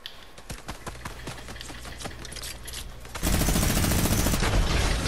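Gunfire in the video game Fortnite, a rapid series of sharp shots followed by a sudden loud, dense burst of sustained automatic fire that fills the rest of the clip, with no talking.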